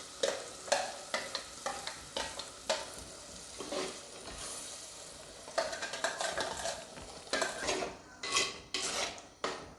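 Ground masala being stirred into frying onion and tomato for a village-style mackerel curry cooked without oil, with repeated scraping and clinking strokes of a spoon against the pan over a quiet sizzle, close up.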